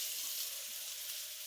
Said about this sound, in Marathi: मस्त तेलात परतायचं बघा असा.